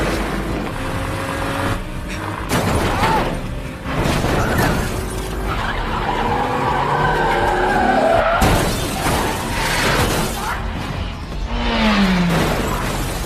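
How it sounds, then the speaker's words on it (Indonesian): A getaway car in a film crashes and tumbles over again and again through a crowded residential area. Screeching tires, crunching metal and shattering glass repeat in loud, chaotic bursts, with no talk. "mobil yang dibawa kabur oleh Casey harus mengalami kecelakaan terjungkal berkali-kali di daerah pemukiman padat penduduk"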